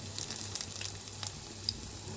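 Batter-dipped mushrooms frying in hot oil, a close steady crackling sizzle with sharp little pops and spits, no talk.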